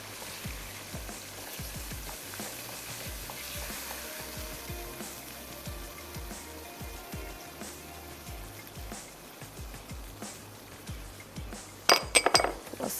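Tikka biryani masala is stirred in a metal pot, with a spoon clinking repeatedly against the sides over a steady low sizzle, ending in a brief burst of louder scraping and clatter.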